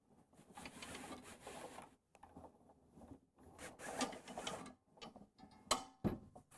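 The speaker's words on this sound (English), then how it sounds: "disengage the ratchet" The ratchet on a hose reel is disengaged with a string of faint, irregular mechanical clicks and rattles, separated by brief pauses.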